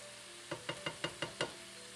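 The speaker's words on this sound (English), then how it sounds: "I'm gonna use to scramble the egg whites. So it's gonna start get going." Egg whites being scrambled in a pan with meat, a faint sizzle under six quick, evenly spaced knocks of a utensil against the pan, fairly close and with no talking.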